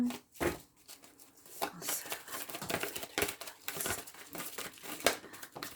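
Tarot cards are drawn and handled, giving a run of crisp papery shuffles, flicks and crinkles in irregular bursts, close and fairly quiet, with no talking over them.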